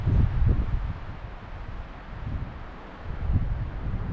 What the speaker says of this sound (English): You can see it's a windy day,